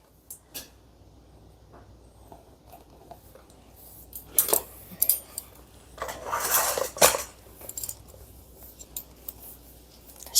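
At a women's haircut academy, scissors cut hair straight across during a layered cut. The snips come in quiet, scattered clicks, then gather into a louder burst of close cutting and light metallic rustle.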